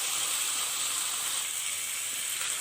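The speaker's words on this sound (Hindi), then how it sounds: "चिकन को अच्छे से भुनेंगे।" Chicken fries with ground black pepper and spices in a pan for white korma, giving a steady, even hiss of sizzling with no talk over it.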